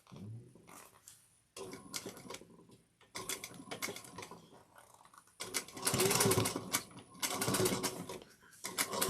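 A sewing machine runs stitches around a slouchy shoulder bag in bursts, stopping and restarting several times, with steady rapid mechanical ticking that grows louder toward the end.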